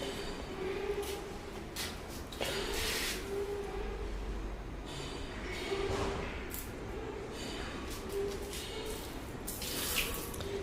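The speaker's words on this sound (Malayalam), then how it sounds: "എവിടെയെങ്കിലും വെള്ളം ഒഴിച്ചാൽ മതി" Water is poured steadily, making a continuous faint splashing and trickling rush that lasts the whole stretch without clear breaks.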